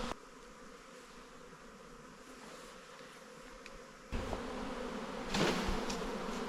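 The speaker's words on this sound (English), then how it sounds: "That beautiful bees. So many of them." A steady, faint hum of many honey bees buzzing at hives, growing somewhat louder partway through, with no voices.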